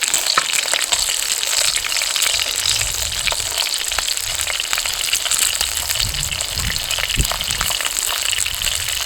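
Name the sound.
frying pork chop and broccoli in a pan outdoors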